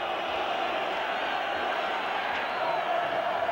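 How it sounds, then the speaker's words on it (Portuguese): Corinthians supporters fill a stadium during a 1999 Brazilian championship match against Palmeiras, a steady distant roar of massed voices with no distinct chant rhythm standing out. "a torcida do Corinthians dá uma demonstração de confiança,"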